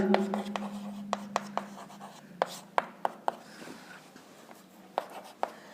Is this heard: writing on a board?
yes